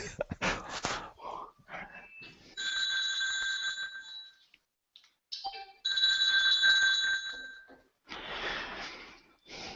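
A telephone rings in two sustained electronic bursts of steady bell-like tone, each about two and a half seconds long with a brief pause between, surrounded by rustling and handling noise.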